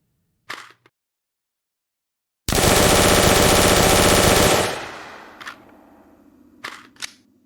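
Video game gunshots in a team deathmatch shooter: a dense burst of automatic fire lasting about two seconds, then a decaying tail, with short mechanical reload clicks before and after.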